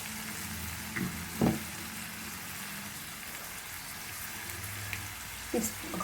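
A ground paste of mint, ginger and coconut fries in a pan with a steady, close sizzle and hiss, broken by a couple of brief clinks or stirs, with a faint voice in the background.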